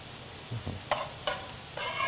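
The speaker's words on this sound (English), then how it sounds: "I'll let you give our Yeah, sure. veggie mix a stir" A vegetable mix is stirred in a pan while cooking huevos rancheros, with a few distinct scrapes and clatters over a light background sizzle and no speech.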